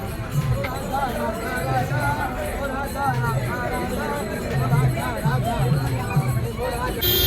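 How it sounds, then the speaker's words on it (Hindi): A dense crowd of devotees mills about at night in Vrindavan, a steady hubbub of overlapping voices and shuffling movement, with people talking throughout. "ये भीड़ देख सकते हैं, इतनी परमानंद महाराज जी आगे गए हैं।"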